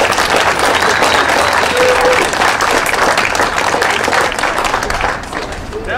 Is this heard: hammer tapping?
no